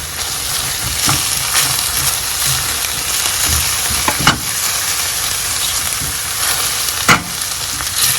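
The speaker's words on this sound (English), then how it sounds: "I'll go ahead and add the chili." Chili hits a hot pan for a pork stir fry with wild rice, giving a steady, close sizzle and frying hiss with a few brief stirring clatters and scrapes, no voices.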